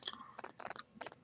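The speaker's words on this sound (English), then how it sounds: "So I'm snacking on my cereal here." Crunchy cereal is chewed close to the microphone in a few quiet, crisp bursts of crunching with short pauses between bites.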